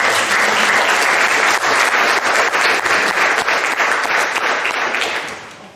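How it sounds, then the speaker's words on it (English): A loud, dense round of audience applause at a literary festival short story reading, steady clapping that tapers off toward the end, with no talking. "just give me a round of applause there"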